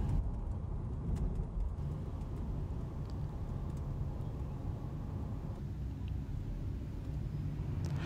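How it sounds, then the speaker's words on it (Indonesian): Sinar Jaya buses pulling out of a rest stop restaurant area, a steady low engine rumble with traffic noise throughout, moderately distant. "Tuh bis-bis Sinar Jaya pada keluar ya."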